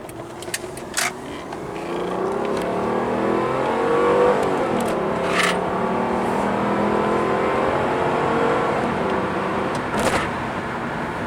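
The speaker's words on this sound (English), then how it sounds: "I'll demonstrate some acceleration here in just a second as we're accelerating onto a highway here" A 2002 Honda Accord with a 3-liter V6 accelerates up a highway on-ramp, heard from inside as a steady engine drone that swells and climbs through the gears, with a few sharp clicks and knocks early on.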